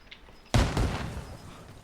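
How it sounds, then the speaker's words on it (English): A frag grenade detonates in Arma Reforger with a sudden sharp boom that rolls into a rumbling tail over a second or so, set against quiet background noise. "I'm gonna throw a frag over that way."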